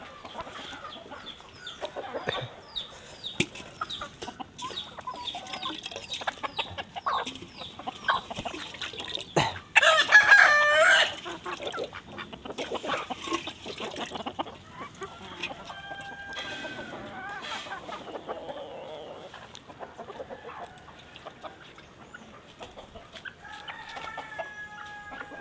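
Free-range country hens cluck softly and intermittently in a yard after their coop is opened in the morning, with one loud rooster crow rising clearly in the middle and more scattered calls later.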